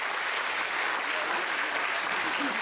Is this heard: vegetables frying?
no